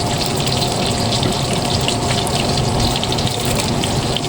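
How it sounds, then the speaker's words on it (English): Water runs and gushes steadily into a ketchup container for baked beans, a continuous close splashing rush with no voices. "I'll add a little water to it."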